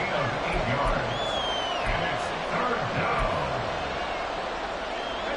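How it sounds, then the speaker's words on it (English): A large stadium crowd roars continuously at MetLife Stadium during an NFL game between the Bills and the Commanders, a dense wash of sound that stays steady and loud throughout. "the crowd here at MetLife Stadium in full roar"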